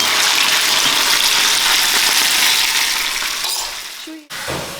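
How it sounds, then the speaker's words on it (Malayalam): Fish frying in a hot pan at home gives a loud, steady sizzle and hiss that fills the space, then drops off sharply near the end before a short return. "അങ്ങനെ മീൻ വറുക്കലൊക്കെ കഴിഞ്ഞു."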